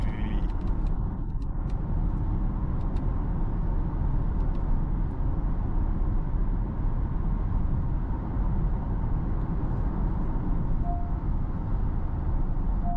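Steady low rumble of road and tyre noise inside a Honda ZR-V cabin cruising at 100 km/h, a continuous broadband drone with no speech over it.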